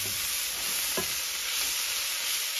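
Potatoes stirred in a very hot pan as they caramelise, a loud continuous close sizzle with one brief scrape of the spatula partway through, no talking.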